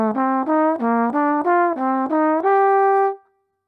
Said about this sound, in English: so C Dorian, I'm going to build triads above each one of those notes in the scale,